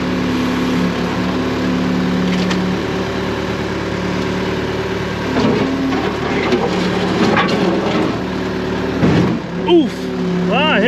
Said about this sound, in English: I hit the bottom or the back of my trailer.